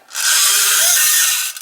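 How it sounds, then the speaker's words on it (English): A small clockwork toy car motor whirs briefly at high pitch, a steady buzzing hum lasting about a second and a half before cutting off. "This is the sound of the motor."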